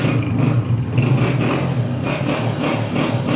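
A 2018 Honda 125 motorcycle engine idles close by, a steady mechanical chug with slight rhythmic pulsing and clatter, heard alone.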